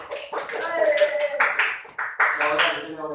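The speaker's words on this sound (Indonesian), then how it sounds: "Tepuk tangan untuk Aulia." Classmates clap for a student in a school classroom, a short burst of irregular hand claps in uneven waves, close by, with a teacher's voice speaking over and between them.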